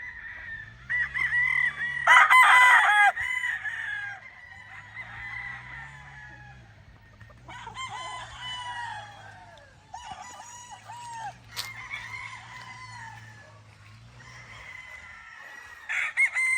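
Young roosters (stags) in an outdoor range crow repeatedly in overlapping, close calls, with softer clucking and low murmuring between the crows.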